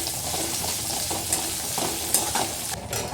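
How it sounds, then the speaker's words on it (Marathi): Capsicum and green chilli fry in oil for a homemade pasta. The close, steady sizzle carries intermittent spatula stirring taps and scrapes throughout. "ही पण मिरची चांगली तेलात परतून घेऊया"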